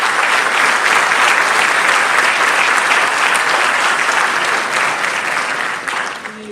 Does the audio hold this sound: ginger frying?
no